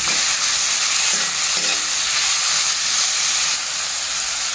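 Garam masala stirred into makhana (lotus seeds) roasting in a pan, a steady loud sizzling hiss with a spoon scraping through it, and no talk.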